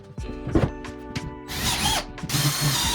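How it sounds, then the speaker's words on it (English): A power drill drives interior wood screws into plywood inside a closet build, starting with a few short knocks and clicks and then two sustained whirring runs of the motor, close and loud. "We're going to attach those with interior wood screws."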